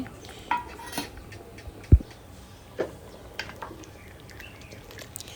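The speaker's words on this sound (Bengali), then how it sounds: "ডালটা দিয়ে ভালো করে নেড়ে চেড়ে নেবেন" A spoon scrapes and knocks against a kadai while dal is stirred into khichuri, sparse faint metallic clinks and scrapes at irregular intervals in a quiet kitchen.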